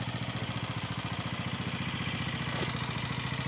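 A Keeway Superlight 125 motorcycle, a lightly used 2010–2014 model, idles just after starting, its single engine pulsing in a quick, even, close chug that stays loud and steady throughout.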